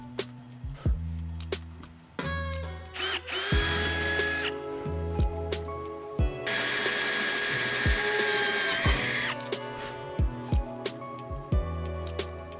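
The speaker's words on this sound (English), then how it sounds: "I had to turn a stainless bolt down to clear the lights" A power drill runs in several loud bursts, spinning a stainless steel bolt to turn it down for mounting lights on a classic car's cracked bumper, its whine starting and stopping between short pauses and sharp knocks.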